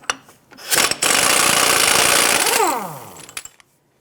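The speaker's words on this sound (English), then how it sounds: "using a 32mm socket, go ahead and remove your axle nut." Removing an axle nut with a 32mm socket on a 2001-2007 Ford Escape, a few clicks followed by a loud, close burst of power-tool rattling that spins down with a falling whine.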